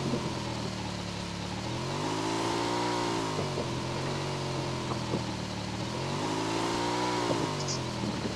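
A vehicle engine in the mobile battle royale game BGMI revs steadily, its pitch rising and falling in two broad swells over a continuous drone, loud and close with no voices.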